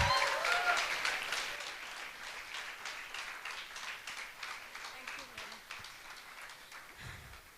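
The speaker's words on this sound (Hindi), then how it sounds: "आप लोग सब लोग उन ताली बजा के उनका स्वागत करें।" Audience applause welcoming a speaker at a gathering, a steady wash of many clapping hands that starts strong and slowly fades, heard from across the room.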